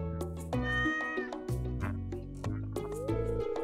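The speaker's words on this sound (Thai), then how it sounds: "อ้าวป้ามานีเอาแมวมาให้นะฮะ" A cat in Stardew Valley meows repeatedly, the close, clear calls falling in a steady rhythm over bright, plinking game music.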